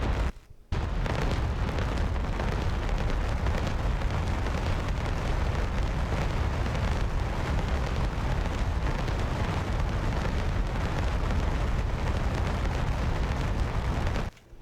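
Bombs explode in the DCS A-10C flight simulator game, a continuous, loud, rumbling roar of blasts that holds steady for most of the clip before cutting off abruptly.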